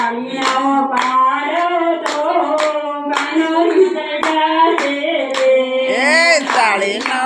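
Rhythmic hand claps keep time with a sung Gujarati devotional song, sharp regular beats landing under a clear melodic voice throughout.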